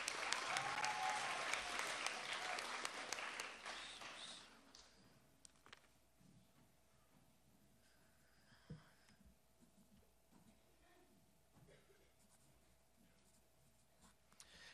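A school spelling bee audience applauds the remaining contestants with a short burst of moderate clapping that fades after about four seconds, leaving a quiet room with faint ticks and rustles.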